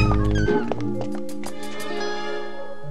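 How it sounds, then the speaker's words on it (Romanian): A small cat gives a string of high, wavering meows up close, with a low hum under the start and speech faintly in the background. "Vai, Polala, și pisicuță drăguță."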